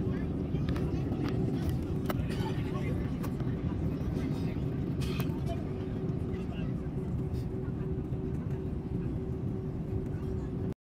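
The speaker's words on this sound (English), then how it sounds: "Here is me in the plane." Steady, loud broadband engine drone and cabin rumble inside a passenger airplane in flight, continuous and unchanging with a constant hum and occasional faint clicks, no talking.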